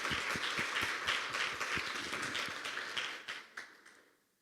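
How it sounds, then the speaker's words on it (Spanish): Church congregation applauding at a women's gathering, a brief burst of mixed claps that fades out over a few seconds, faint and somewhat distant. "¿Puedes darle un aplauso al Señor,"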